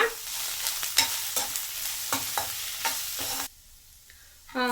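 Garlic, ginger and green chillies fry for cabbage pulao in a constant hiss of hot oil, with regular stirring scrapes. Near the end the sizzle drops almost to nothing, then bursts back.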